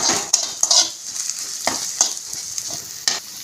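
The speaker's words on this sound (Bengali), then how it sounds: "নারকেলটা একটু লাল লাল করে ভেজে নেব।" Grated coconut frying in a pan while being stirred, a close steady sizzle broken by repeated scraping clicks of the spatula against the pan, no voices.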